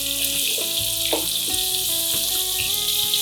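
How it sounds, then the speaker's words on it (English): Pumpkin pieces hit hot oil already spiced with asafoetida and dry red chilies, bursting into a loud, steady close-up sizzle with crackling pops throughout. "And now I'm going to add the pumpkin."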